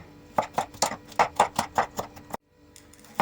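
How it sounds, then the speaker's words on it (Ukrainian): A knife slicing a bell pepper into thin strips on a cutting board, about a dozen quick, evenly spaced chops close by, then a pause. "Болгарський перець я помила, почистила від плодоніжки і від насіння і буду його нарізати соломкою."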